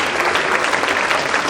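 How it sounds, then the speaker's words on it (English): An audience applauds teachers at a hospital anniversary celebration, a dense, loud, continuous wash of clapping from many hands, heard close with no voices over it. "a big round of applause to the gurus who have so patiently handled so many children"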